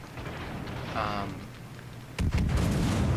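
Main battery of the battleship HMS Iron Duke firing at an enemy Arkansas Beta in a naval video game: a loud broadband boom partway through, followed by a heavy rumbling roar, with steady background noise before it.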